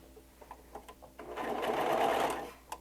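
Sewing machine stitching a toddler skirt made from a T-shirt, a few soft clicks and then a close, steady run of rapid stitching that swells for about a second before stopping.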